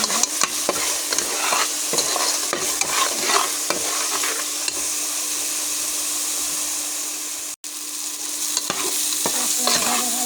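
Spices for a jackfruit curry sizzle steadily in hot oil while a spatula scrapes and stirs them around the pan, with close, continuous frying noise and repeated scraping strokes, briefly dropping out once.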